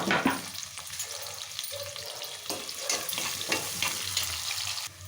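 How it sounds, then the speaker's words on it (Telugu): Chopped onions, cumin seeds and bay leaves sizzle in hot oil for millet khichdi, a close, continuous crackling fry with occasional stirring scrapes throughout. "ఆయిల్ హీట్ అయిపోయింది కదా, జీలకర్ర, ఒక 2 బిర్యానీ ఆకులు, తర్వాత వచ్చి ఆనియన్స్, సన్నగా కట్ చేసుకున్న"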